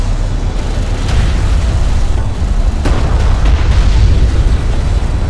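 An enemy salvager blowing up during an aerial battle in a strategy game, heavy rumbling booms and blasts that roll on continuously, loud and dense with no talk.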